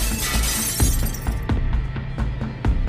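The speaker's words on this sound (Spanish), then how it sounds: "Los cristales volaron por el aire en 1000 pedazos." Glass shatters loudly in a bright crash, followed by scattered tinkling shards and small pieces hitting the ground in irregular clinks.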